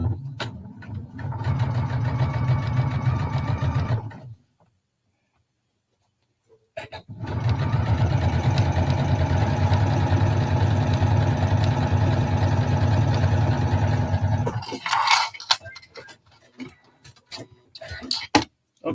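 A sewing machine running a 3-thread stitch along fabric seams, with two long steady whirring runs separated by a pause, close and even, followed by brief handling noises.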